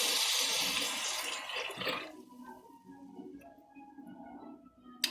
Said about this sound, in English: It just told me to add water.